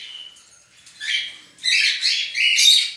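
Pet birds in an aviary, a reverse pair with a grey cinnamon-carrier male and a pearl cinnamon female, give bursts of high chirps and chatter that swell and pause in clusters, fairly close and with no talking.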